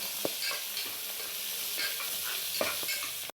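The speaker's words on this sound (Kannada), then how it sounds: "ಫುಲ್ ಎಲ್ಲ ಇದನ್ನು ಫ್ರೈ ಮಾಡ್ಕೋಬೇಕು" Onions frying in a pan with neem (curry) leaves for a leafy greens stir-fry, giving a steady, close sizzle with a few sharp scrapes of stirring, and no voices.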